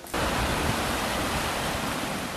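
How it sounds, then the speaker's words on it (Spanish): The Esca river murmurs steadily along a mountain trail near Isaba in the Navarre Pyrenees, a dense continuous rush of flowing water, close and loud, with no other sounds. "El murmullo del río Esca y algún coche que sube a Isaba por la carretera me anuncian la proximidad de Isaba"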